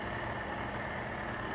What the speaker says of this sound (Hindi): एग्जॉस्ट नोट सुनो।